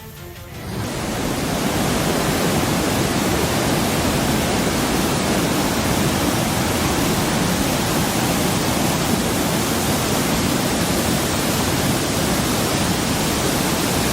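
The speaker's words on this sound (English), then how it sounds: "This shows floodwaters rushing down a road." Floodwaters rush down a road in a loud, unbroken roar that swells in within the first second and then holds steady and dense.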